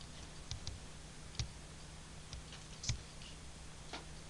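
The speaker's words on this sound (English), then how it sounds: "Just by the clicking of my mouse" A computer mouse gives a handful of faint, sharp clicks at irregular intervals in an otherwise quiet room.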